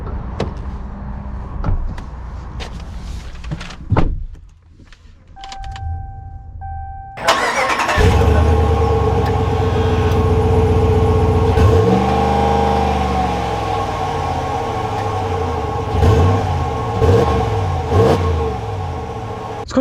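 A 2021 Ram 1500 Laramie four-wheel-drive truck: a door thunks, then the engine cranks and catches with a loud start and settles to a strong idle before revving and pulling away, its engine note rising and falling through gear changes.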